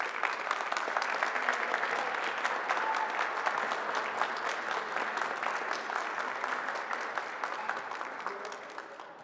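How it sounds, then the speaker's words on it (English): At a community vaccination event in Louisville, a crowd claps steadily for about nine seconds. The sound is a dense, rapid patter of many hands that gradually eases off toward the end. "So let's give a round of applause to Emily and Americana."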